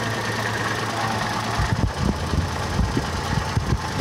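A motorcycle engine running after a distributor rotor and CDI timing adjustment: a steady hum that turns into a close, rhythmic idle with regular thumping pulses.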